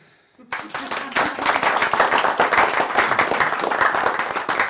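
Audience applause at a magic show, starting abruptly and continuing as dense, steady clapping from a crowd, loud and close with no talk over it.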